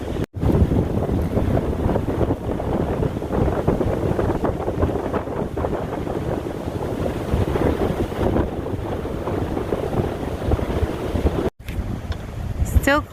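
Strong, steady wind roars across the microphone on an exposed Appalachian Trail mountain ridgeline, buffeting loudly and continuously with brief gusty dropouts.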